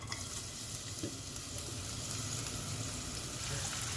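Cinnamon, cloves, bay leaf and onion fry in hot oil, giving a steady, dense sizzle that runs unbroken throughout with faint stirring.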